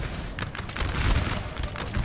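Dense volleys of musket fire from massed grenadier lines in a Napoleonic Russian-campaign battle of 1812 in Napoleon: Total War, a continuous loud crackle of overlapping shots with no pauses.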